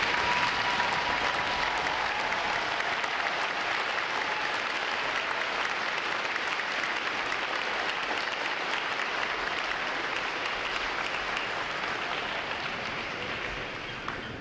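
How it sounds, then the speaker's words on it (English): Spectators in the stands at a U.S. Navy recruit training graduation applaud the fathers, a broad, distant, rain-like wash of clapping that stays steady for about fourteen seconds before fading slightly. "Would all of our fathers please stand so we can give you a round of applause."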